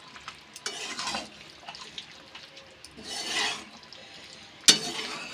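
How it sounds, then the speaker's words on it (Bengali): A spatula stirs a vegetarian fig curry in a pan as tomato ketchup and sugar are mixed in, making soft, intermittent scraping and sizzling strokes with a sharp clink near the end, quiet and close. "টমেটো কেচাপ এবং চিনিটা দিয়ে খুব ভালোভাবে এভাবে মিশিয়ে নিতে হবে"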